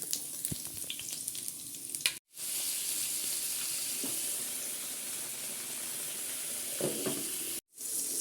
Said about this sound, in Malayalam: മീൻ പൊരിക്കാനുള്ള എണ്ണ ചൂടായിട്ടുണ്ട് അപ്പോൾ രണ്ട് മണി ഉലുവിട്ട് കൊടുക്കും